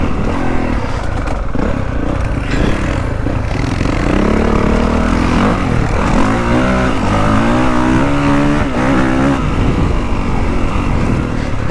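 A Honda CRF250 Works Edition dirt bike is ridden hard nearby, its engine droning loud and continuous, rising and falling in pitch as it revs through corners against heavy wind buffeting.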